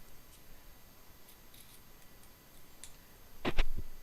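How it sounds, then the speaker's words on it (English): Scissors cutting craft material for a unicorn horn, a faint quiet ticking before a quick close pair of crisp snips near the end. "You want to make sure you're cutting nice and straight."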